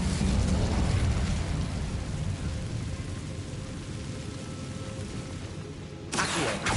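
A fire spell is cast in the Hogwarts Legacy video game, giving a loud, dense roaring whoosh of flame that runs for several seconds, then drops out briefly before a fresh burst at the end.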